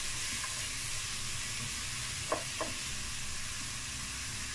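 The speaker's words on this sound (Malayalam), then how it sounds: "ഹൈ ഫ്ലെയിമിൽ വെച്ചിട്ടൊരു 2 മിനിറ്റ് ഇളക്കിക്കൊണ്ടിരിക്കുക" Salted vegetables for fried rice stir-frying on high flame, a soft, even hiss of sizzling with two brief knocks of a spoon against the pan.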